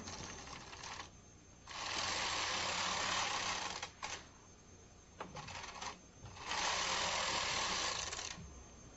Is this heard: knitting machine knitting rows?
yes